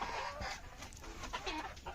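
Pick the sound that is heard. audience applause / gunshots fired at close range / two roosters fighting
two roosters fighting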